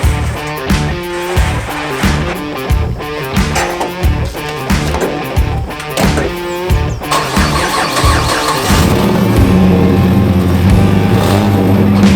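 A Lotus car engine cranking and firing up in a car park: loud rhythmic starter churning in repeated bursts, then the engine catches and runs at a steady, rough idle, close by with no talk.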